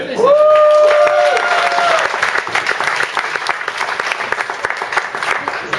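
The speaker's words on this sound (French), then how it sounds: "On peut l'applaudir." Audience applause at a stand-up comedy show in Beauharnois, a dense burst of clapping that starts loud and thins out toward the end, with cheering voices at the start.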